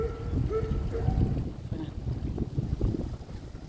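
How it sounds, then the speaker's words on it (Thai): Strong wind buffets the microphone outdoors in a flower garden at a rural American home, a rough, low rumbling gust that rises and falls unevenly throughout, with no voices. "โอ้ลมแรงมากเลย"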